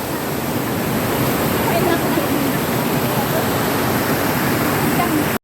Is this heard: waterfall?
yes